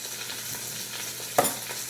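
Pot roast meat sizzles in a pan, a steady crackling frying hiss with one louder pop near the end and no voices.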